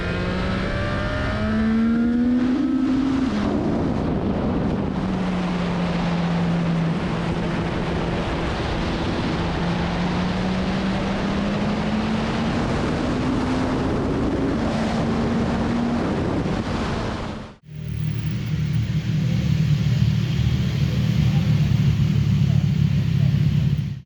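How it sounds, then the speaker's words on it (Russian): CFMOTO 675 SR-R motorcycle engine pulling hard at speed, a rising engine drone under heavy wind rush, then cutting to a steadier lower engine hum near the end. "Прямо открываешь ручку газа и бам, мотик пошел."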